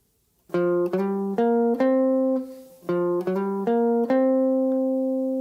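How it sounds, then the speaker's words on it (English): Sustained pitched notes on an instrument play in two short phrases, each note scooping up into pitch with a brief slide before holding steady, clear and up close with no talking. "that gives us a little bit of that kind of scooping sound"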